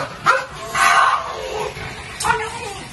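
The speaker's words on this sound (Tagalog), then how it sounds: "Update tayo ulit ng mga available natin na aso dito sa kennel natin" Dogs at a kennel, including French Bulldogs and corgis, giving a few short barks and yips close by, with brief pauses between them.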